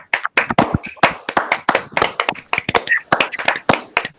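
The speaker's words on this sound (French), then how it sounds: "Veuillez l'applaudir s'il vous plaît." A small audience claps for a speaker at the end of an e-commerce tips talk, with sparse, distinct claps at close range and uneven rhythm, and a few voices mixed in.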